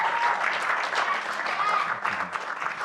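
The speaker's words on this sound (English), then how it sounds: "Please, one last round of applause for the presenters today." Conference audience applause for presenters, dense continuous clapping from a sizable crowd throughout, close and fairly loud.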